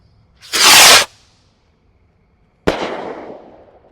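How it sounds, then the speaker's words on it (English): A 16-ounce Pyro Demon firework rocket launches with a loud half-second whoosh, then after a pause of about two seconds bursts with a sharp crack that fades into a long crackling tail, with no voices. "This is the 16-ounce rocket from Pyro Demon."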